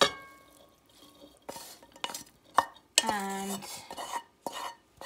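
Ground meat is mixed with milk-soaked bread in a bowl, giving irregular wet squelches and sharp scrapes and clinks of a utensil against the bowl.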